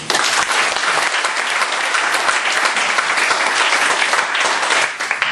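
Steady, dense applause from a congregation filling a church hall during a revival service, continuous and loud throughout, with no pauses.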